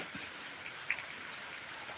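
Rain comes down steadily in hilly terrain, a low, continuous wash of drops with one brief sharper tick near the middle.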